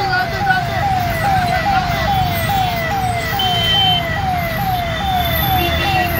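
Sirens from a large police convoy arriving along one side of a road during a Maratha reservation rally, a steady rising-and-falling wail repeating throughout over loud crowd and traffic noise.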